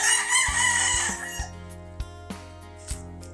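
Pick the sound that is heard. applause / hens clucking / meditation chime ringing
hens clucking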